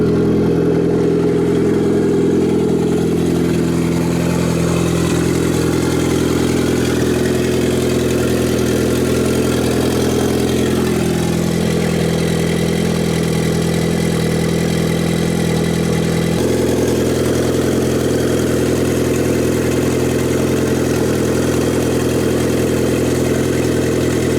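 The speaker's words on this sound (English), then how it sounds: "It's idling a little high" A loud, close car engine idling steadily a little high after a radiator repair, with a constant low hum, its pitch drifting slightly over time.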